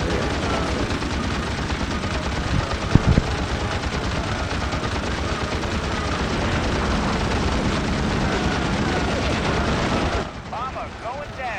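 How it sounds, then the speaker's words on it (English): Aircraft machine guns in the World War II flight game Heroes of the Pacific, during the attack on Iwo Jima, roar in a dense, continuous rattle for about ten seconds before cutting off abruptly. "At least this plane's got some good machine guns for real."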